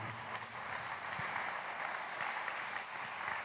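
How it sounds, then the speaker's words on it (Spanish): Church congregation applauding during a worship service, a steady, moderately quiet wash of many hands clapping that holds evenly throughout with no speech over it. "Puede dar un aplauso al Señor,"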